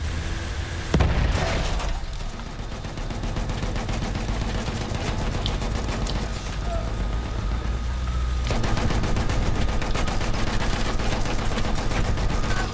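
Gunfire at a house in Battlefield 1 comes as sustained, loud rapid shooting with a sharp blast near the start and another surge later, a dense, continuous battle din with no talking.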